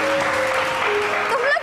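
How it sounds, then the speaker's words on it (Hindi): Studio audience applause on an Express Entertainment TV show, a dense steady clatter of clapping filling the room, with a presenter's voice sounding over it. "हर बात पे तालियां बज रही हैं"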